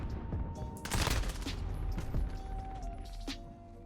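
CR56 AMAX assault rifle fire in Modern Warfare gameplay comes as rapid, sharp bursts of shots in clusters, mixed with game sound effects and tones, moderately loud throughout.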